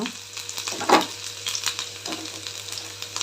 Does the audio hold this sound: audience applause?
no